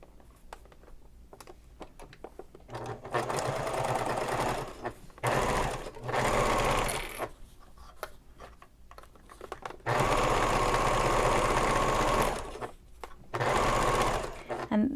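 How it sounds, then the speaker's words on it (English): A sewing machine stitches across both layers of a messenger bag in several loud bursts of steady whirring, separated by pauses, with a person talking quietly in between. "I'm going to go ahead and sew across both of these"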